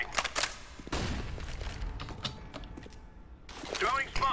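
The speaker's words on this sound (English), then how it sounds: "Throwing flashbang." A flashbang grenade is thrown in CS:GO on the Train map, with quick mechanical clicks and clatter, then a burst of sharp noise near the end.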